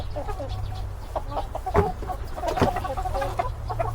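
Nearby chickens cluck in short repeated bursts over a low background hum, fairly close and moderately loud; one chicken has been struck and cannot stand.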